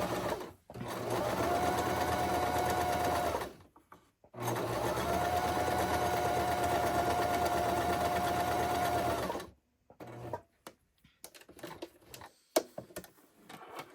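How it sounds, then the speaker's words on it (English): A sewing machine stitching patchwork fabric for a Christmas bow runs in two long steady whirring bursts, then stops for a few clicks and light handling, close and clear. "sew at a scant 1/4 of an inch"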